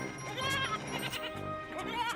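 Young goat kids bleat in a quick series of wavering, high cries, close and clear as a storybook sound effect, with a faint voice-like murmur beneath.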